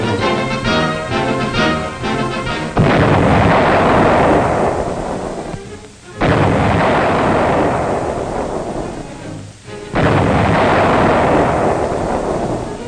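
A 1944 wartime recording of an artillery salvo: heavy, loud booming blasts with rumbling roar that swells and sustains, repeating in three waves separated by short dips, over a noisy, band-limited old recording.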